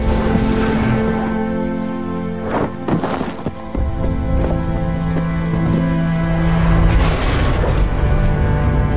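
An explosion in the video game Enslaved booms through a loud, dense rumble, with bursts of crashing impacts in the middle and a sustained roaring wash of noise continuing for several seconds, no voices.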